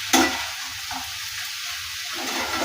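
Mixed vegetables with shelled peas stir-fried in a pan, a steady close sizzle with a sharp clatter as the peas go in near the start, then continuous frying hiss with faint stirring.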